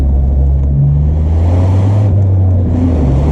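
A Peugeot 205 GTI or VW Up GTI engine drones loudly from inside the car while driving, with steady low rumble and slight shifts in engine pitch, no talking.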